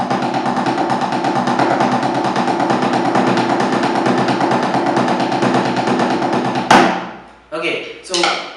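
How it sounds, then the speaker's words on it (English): A right-hand-lead inverted double stroke roll on drums, a dense, even stream of loud, close strokes lasting several seconds, cut off by a final accent before a voice begins talking. "But a right hand lead inverted double stroke roll would sound like this."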